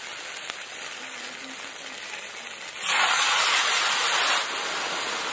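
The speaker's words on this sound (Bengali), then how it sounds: "দিয়ে সব মশলার সাথে বেগুনটাকে একটুখানি কষিয়ে নিতে হবে" Eggplant sautéing in a pan with ground spices, cumin, dried and green chilli paste, coriander and turmeric, giving a steady close hiss that swells louder midway as the pieces sizzle.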